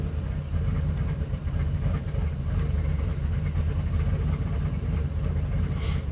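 A 1999 Ford F250 with a 5.4L engine idling roughly, giving a low, continuous rumble with a faint uneven pulse. It is moderately loud and close, with no talking over it.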